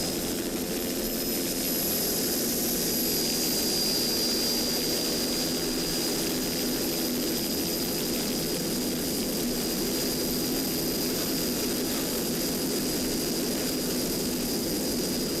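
Cobra-powered engines on a 35-foot Cigarette offshore racing powerboat roar at a 2007 race, a loud, unbroken, high-revving drone with a steady whine that holds throughout.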